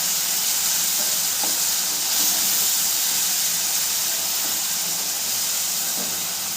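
A steady, loud hiss of steam from a small splash of water added to a hot pan of ground ginger, garlic and green chilli paste, continuous and close with no one speaking.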